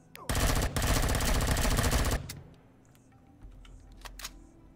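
Rapid automatic gunfire in the space survival game Empyrion Galactic Survival, a dense loud burst of about two seconds followed by a quieter rumbling pause and a couple of isolated sharp shots.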